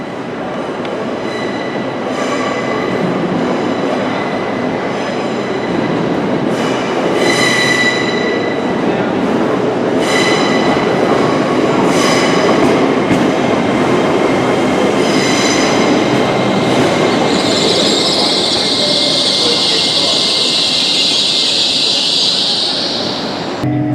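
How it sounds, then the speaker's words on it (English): A Northern passenger train pulls into a station platform on the East Coast Main Line in Northumberland, loud and close, with rumbling wheels, rhythmic clicks over rail joints and a high brake squeal as it slows to a stop. "So our train should be arriving now to take us to Morpeth."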